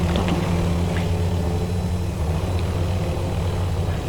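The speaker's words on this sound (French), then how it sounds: "Hélicoptère." A helicopter in the Warzone video game, its steady rotor and engine drone filling the space with a dense, continuous low rumble and wash of noise, loud and unbroken throughout.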